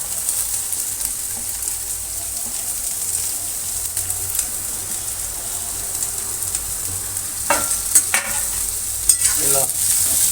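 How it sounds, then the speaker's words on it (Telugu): Chopped onions and curry leaves fry steadily in a pan for an egg bhurji, with a ladle stirring now and then; a soft continuous sizzle is broken by a few sharper scraping strokes near the end, and nobody speaks. "ఇలా గరిటె తిప్పుతూ ఉంటే ఉల్లిగడ్డ మాడకుండా ఉంటుంది"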